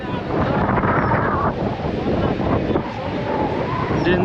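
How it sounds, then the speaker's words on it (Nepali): Strong wind blows at the Kanyam viewpoint, a loud, steady rushing roar that buffets the microphone and swells and eases slightly throughout. "डेन्जर रुखहरू कराइरहेछ होइन हावाले"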